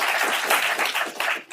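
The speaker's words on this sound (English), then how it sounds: "Do not hold your applause." A college audience applauds, dense, loud clapping from many hands filling the space, then tapering off near the end.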